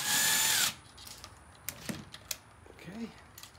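A power tool whirs loudly and briefly as it removes chain guide bolts on a Polaris 570 during a teardown, then falls silent, followed by scattered clicks, taps and a short low vocal sound nearby.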